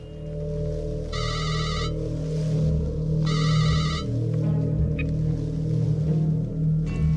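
A mobile phone rings from inside a bag of birdseed, two muffled electronic trill bursts about two seconds apart over a steady low rumble of background noise, no voices.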